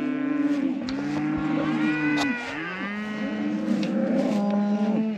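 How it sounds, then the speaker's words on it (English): Cattle lowing loudly while being herded through a corral alley and chute, several long overlapping moos close by, one after another, with no talk. "Herding cows, you can't let anyone by you, or they see an exit and they all want to double back."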